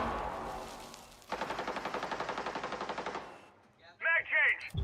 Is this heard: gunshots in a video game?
yes